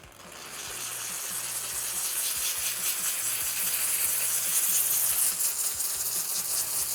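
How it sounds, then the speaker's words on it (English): A steam cleaner with a nylon brush moves quickly and lightly over hotel carpet spots on steam only, giving a steady, soft hiss and faint scrubbing rustle that builds slightly and continues without speech. "going over those spots specific with the nylon brush very softly, not putting any pressure in, and just moving really quickly with steam only"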